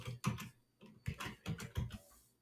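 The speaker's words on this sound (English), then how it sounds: "I'm going to type out the word unique" Typing on a computer keyboard while working in a spreadsheet: a few short clusters of soft key clicks, close and quiet, with gaps between bursts.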